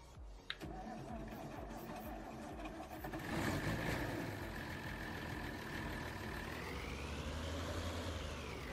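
A CBT tractor engine in Farming Simulator 19 rumbles steadily, its tone rising partway through as the revs climb, loud and continuous with no talk over it.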